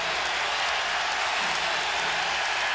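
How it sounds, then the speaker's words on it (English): Basketball arena crowd at Conseco Fieldhouse during an NBA playoff game between the Pistons and the Pacers, a dense, steady roar of cheering and noise filling the whole span without a break. "And the crowd in Conseco letting him know it."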